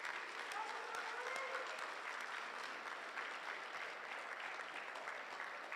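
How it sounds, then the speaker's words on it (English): An audience at a FIRST Tech Challenge robotics qualifier on Long Island gives a round of applause, a faint, distant wash of steady clapping that fills the hall evenly without any talk. "So if we can just give them a round of applause."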